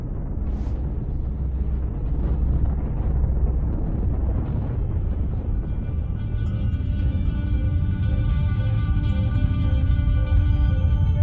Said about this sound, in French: L'étoile s'effondre alors sur elle-même et explose.